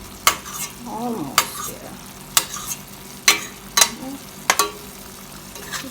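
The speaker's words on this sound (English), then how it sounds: "I'm gonna turn on this a little bit and let it cook with the sauce some more" Jamaican brown stew fish fillet cooking in its sauce, with a spoon clinking and scraping against the pan every second or so over a soft steady sizzle; a voice briefly speaks.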